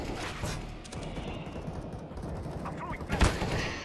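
Gunfire in the Counter-Strike: Global Offensive video game rattles in rapid bursts, with sharp shots and a heavier bang near the end over a busy background of game noise.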